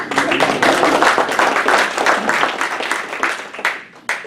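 Audience applause at a Rotary club meeting, a dense, steady wash of many hands clapping that carries loudly for several seconds before tapering off near the end.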